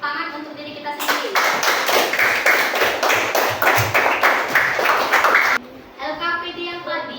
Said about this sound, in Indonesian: Dan kita beri tepuk tangan untuk diri kita sendiri.